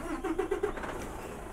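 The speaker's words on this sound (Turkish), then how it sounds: "Motorumuzu bir çalıştıralım." In Euro Truck Simulator 2, a truck engine cranks with a short stuttering rhythm and catches into a low idle, brief and close.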